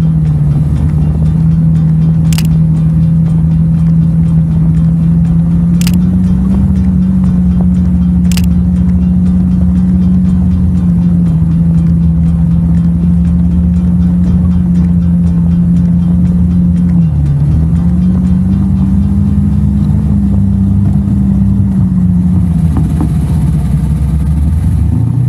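Snowmobiles drone steadily at close range on a Golden Circle tour in Iceland, with the pitch shifting slightly as they ride past. The loud engine hum runs through the whole clip, with a few faint clicks on top.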